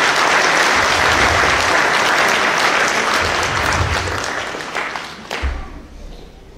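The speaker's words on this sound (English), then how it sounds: "Once again, a round of applause for We Are One." Crowd at a Fiji Day celebration gives a round of applause for the group We Are One, dense clapping that gradually thins and fades near the end, where a voice and some low rumble come in.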